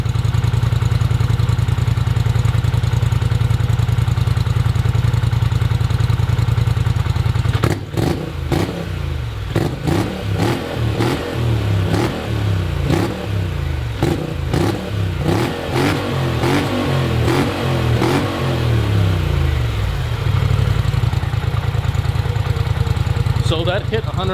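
A 2018 Polaris Sportsman 1000 XP ATV engine with a Big Gun EXO slip-on exhaust idles steadily, then bursts into sharp, loud throttle revs reaching about 113 decibels, rising and falling, before settling back to a rumbling idle.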